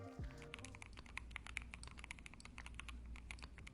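Soft, rapid clacking of a Keychron Q1 HE analog mechanical keyboard with foam layers being typed on, muted and steady, close up with no voices.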